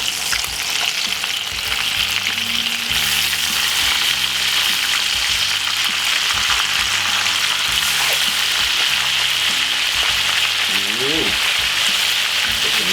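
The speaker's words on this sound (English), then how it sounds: "So basically I got 2 more pieces we're gonna fry." Pieces of fish sizzle in hot oil in a pan for Jamaican fry fish, a loud, continuous crackling hiss with occasional spatters.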